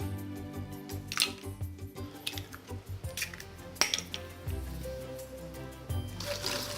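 Chocolate cupcake batter of sugar, flour and eggs is stirred in a bowl, giving quiet wet squishing and repeated scraping clinks of a utensil against the sides, with no talking.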